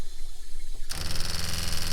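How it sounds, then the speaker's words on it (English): An RV water pump kicks in partway through: quiet background suddenly gives way to a loud, rapid rattling buzz that continues steadily to the end. "Hear our pump kick in again"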